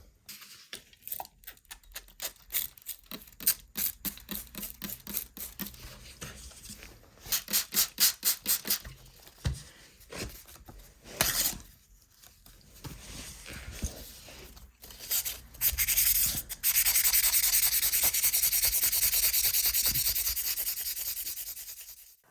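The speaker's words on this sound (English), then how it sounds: "We'll use sandpaper and see if that does a better job than the foil." Sandpaper rubbed by hand over rusty chrome on a 51-year-old project moped, starting as rapid rhythmic back-and-forth strokes and ending in a long, loud, steady scraping rasp close up, with no talk.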